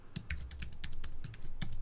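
Rapid keystrokes on a computer keyboard, a close, crisp run of about a dozen clicks at an uneven typing rhythm with no voices.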